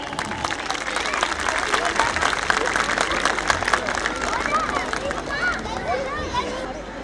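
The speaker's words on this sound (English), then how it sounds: "Give them a big round of applause, please" At a school annual day event, an audience applauds as class 6A students come on stage, continuous clapping mixed with crowd hubbub and children's voices, fairly loud and sustained.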